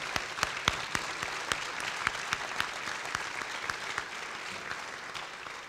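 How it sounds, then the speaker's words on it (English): Applause for student athletes at a Positive Coaching Alliance event in 2016, a moderately sized crowd clapping steadily with distinct sharp claps popping out above the wash, gradually easing toward the end. "let's give all the student athletes a huge round of applause"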